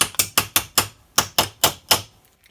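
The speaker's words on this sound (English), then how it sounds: "Now I'm going to flip over to the other side, give it another couple taps here" A body hammer taps a metal panel in a quick, even run of about nine sharp, ringing strikes at close range, each one decaying briefly before the next.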